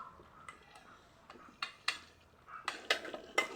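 A spoon scrapes and clinks against a pot while cumin powder is stirred into Jamalpur-style beef pithali, giving sparse, close, quiet metallic taps that grow more frequent toward the end.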